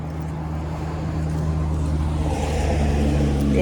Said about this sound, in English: Big loud bus going by.